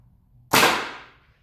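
A Nerf gun fires a single sharp, close shot of a dart into cardboard. The crack comes after near silence and fades off quickly.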